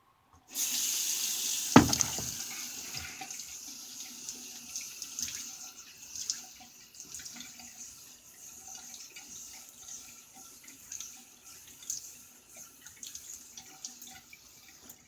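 Tap water runs steadily into a bathroom sink while wetting the face before a shave with a folding razor, with a sharp knock near the start, then a continuous rushing stream with soft splashes and drips, close by and alone.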